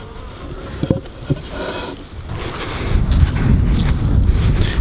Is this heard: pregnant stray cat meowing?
no